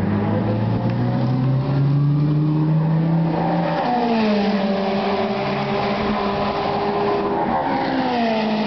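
A Seat Leon Eurocup race car engine during track testing at Oschersleben, a loud steady drone that climbs in pitch, then drops and settles as the car holds speed, with no talk over it.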